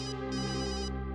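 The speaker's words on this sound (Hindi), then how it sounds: "घंटी तो लैब में बज रही है" A phone rings in a lab, one continuous electronic ringtone with a rich layered tone, clear and close for about a second, with no talking.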